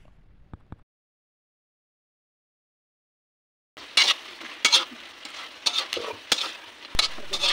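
Pork sizzles in thickened sweet and sour sauce in a pan, with sharp spoon clanks and stirring scrapes over a steady frying hiss that begins abruptly after a near-silent pause.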